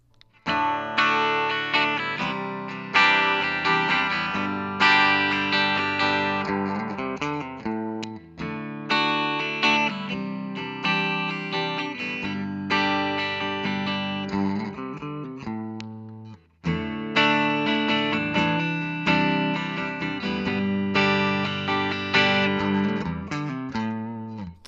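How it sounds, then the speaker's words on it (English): A 1982 Gibson Les Paul Custom Antique Natural electric guitar plays clean chords and melodic phrases through a Gibson Super Goldtone GA30RV amp, loud, sustained and in rhythmic strummed sections, with no talking. "The cleans will be running through a Gibson Super Gold Tone GA30RV."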